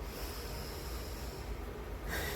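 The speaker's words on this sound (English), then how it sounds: "And I'll just breathe it in" Someone takes a long, deep breath in through the nose, smelling a drop of essential oil rubbed between the hands, a close, breathy sniff that swells sharply near the end.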